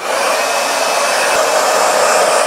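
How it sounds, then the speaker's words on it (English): A hair dryer blowing close and loud, a steady, unbroken airy roar drying hair, with no talking. "I'm going to blow dry my whole head"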